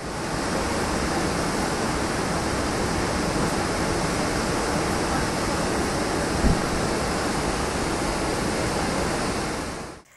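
Floodwater rushing into the Koyna reservoir in Satara district, Maharashtra, a large dam in the Sahyadri hills, roars as a steady, dense broadband wash that holds the same level for about ten seconds, with no voices.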